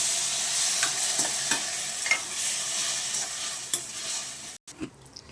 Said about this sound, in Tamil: தக்காளி போடுறாங்க. தக்காளி வணங்குது.